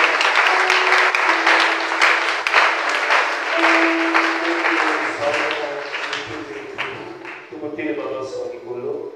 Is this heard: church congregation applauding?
yes